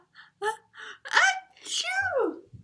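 A storyteller's voice imitates a sneeze caused by pepper in a children's counting story: a few quick gasping intakes build up, then a loud drawn-out 'achoo' that trails off.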